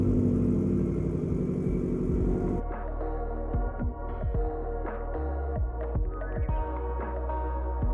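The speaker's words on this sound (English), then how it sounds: "let's get you guys a cold start" A Subaru WRX STI engine on a cold start: a loud starter-and-engine rumble for the first few seconds settles into a steady, throbbing idle with a low, lumpy hum.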